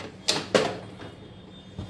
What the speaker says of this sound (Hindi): कुकर का ढक्कन से कुकर को मैं बंद कर रही हूँ।